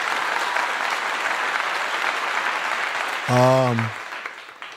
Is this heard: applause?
yes